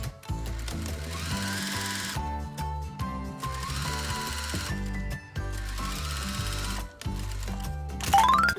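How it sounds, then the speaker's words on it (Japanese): A sewing machine topstitches the seam allowance on a pair of stetteco shorts, its rapid mechanical stitching running in bursts separated by brief pauses, close and clear. "表からステッチをかけて押さえてあげましょう"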